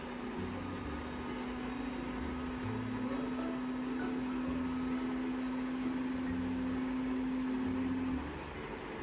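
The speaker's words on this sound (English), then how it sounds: "Okay, the pump is on now. You just heard the sound." A small DC pump on a sanitizing robot runs with a steady, close hum and a whirring motor drone for about eight seconds, then cuts off near the end.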